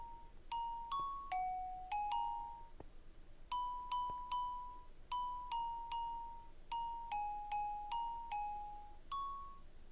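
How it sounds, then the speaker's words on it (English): Minecraft note blocks chime the melody of Jingle Bells as a steady string of clear, bell-like plinks in regular groups, alone and fairly quiet in a video game setting. "It's a whole bunch of note blocks. It says Christmas present to you that plays Jingle Bells."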